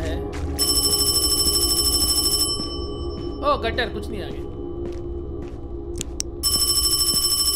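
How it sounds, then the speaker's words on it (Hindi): Telephone in a Chinese horror video game rings in loud, even bursts at the start and end, with high tones under Hindi chatter from someone talking over the game in between. "उठा लो, उठा लो, फोन बज रहा है."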